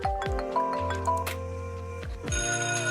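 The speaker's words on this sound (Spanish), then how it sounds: "El teléfono, ¿cierto?" A telephone rings with bright electronic chiming tones in a short burst of a few seconds, clear and fairly close, with no talking over it.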